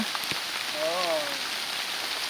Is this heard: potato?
no